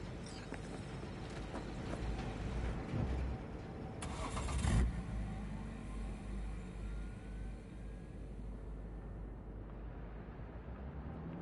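A car engine in a PS4 game cranks and catches with a brief loud burst, then settles into a low steady idle rumble under ambient game sound.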